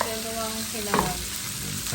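Sinangag fried rice made with leftover basmati rice is stir-fried in a pan, giving a steady close sizzle with a brief scrape of the spatula partway through.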